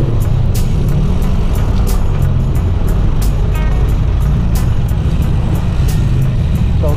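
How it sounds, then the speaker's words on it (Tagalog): Heavy road traffic at the McKinley chokepoint, with a dense, steady rumble of cars, trucks and buses passing continuously close by and no talk. "focus on traffic."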